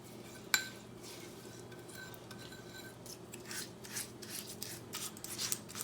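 A za'atar mixture is slathered over raw chicken with soft, close, wet rubbing and rasping, one sharp clink near the start, then steady quiet smearing.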